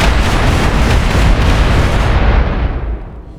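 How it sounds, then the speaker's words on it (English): A warhead blast tearing through an asteroid in Space Engineers roars as one massive, continuous detonation rumble, loud and dense from the start, then slowly fading into a darker low tail. "Right, so this is the second detonation now"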